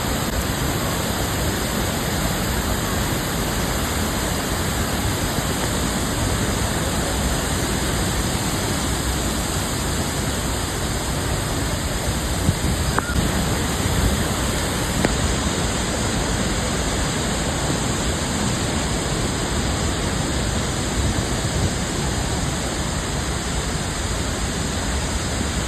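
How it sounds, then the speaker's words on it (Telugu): Netravali waterfall in the forest of South Goa, swollen by heavy rain, gives a constant, dense, roaring wash of falling water, loud and unbroken throughout, with no voices. "నేత్రావళి వాటర్ ఫాల్స్ అండి"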